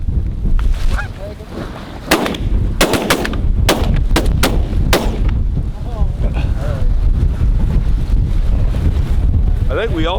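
Shotgun volley during a goose hunt in a cornfield in strong wind: a rapid cluster of loud sharp blasts from several guns, over constant heavy wind buffeting, followed by voices and calling.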